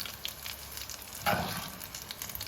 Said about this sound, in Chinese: 我们一直把葱段给它炸至表面颜色金黄，香味炸出